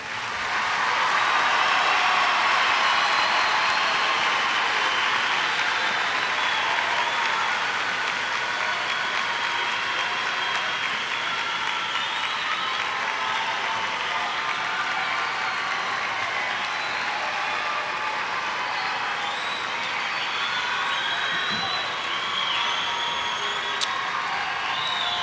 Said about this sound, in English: Will the audience please give them a big round of applause?